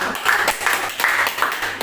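Audience clapping greets a Batak comedy troupe's introductions, a dense patter of hand claps rising in bursts over about two seconds, with faint whoops or voices mixed in.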